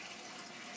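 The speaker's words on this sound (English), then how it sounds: "It's just like a little trickle." A Japanese-style bidet lets out a thin, steady trickle of water, a soft continuous splashing hiss with no voices over it.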